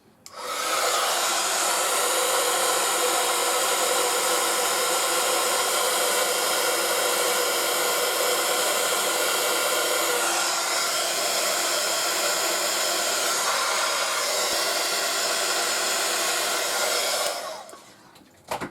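A hair dryer blows steadily and loudly for about seventeen seconds while drying craft pieces for a memory book, with a slight shift in pitch midway before it cuts off.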